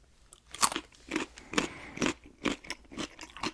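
Raw carrots crunched close up, with repeated sharp bites and chewing crunches in a steady rhythm, loud and near, with no talking.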